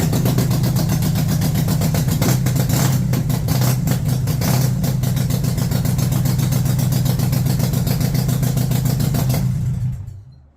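A Harley-Davidson 48 with a changed aftermarket exhaust idles loudly and close with a steady, lumpy V-twin throb for about ten seconds before the engine is shut off and fades out.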